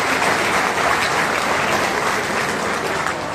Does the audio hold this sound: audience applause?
yes